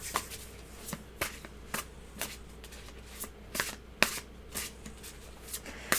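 Tarot cards are shuffled with soft, rhythmic riffling bursts repeating about every half second, quiet and close, with no talking.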